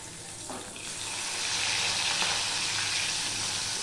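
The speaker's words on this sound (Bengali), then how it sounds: "ঠিক এইভাবে আমি সব মাছগুলোকে ভেজে নেব" Small mourola fish frying in a little oil make a continuous close sizzle that swells louder and denser after the first second, with a light clink of a utensil early on.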